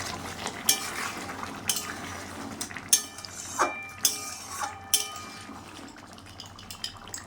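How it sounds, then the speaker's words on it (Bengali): Eggs being stirred into a boiling curry in a pot, with spoon scrapes and metallic clinks against the pot rising above a steady bubbling simmer, several sharper knocks spaced across the stretch. "ঝোলটা ফুটে গেছে, এর মধ্যে আমি ডিমগুলি দিয়ে দিলাম। খুলে নেড়ে দিলাম।"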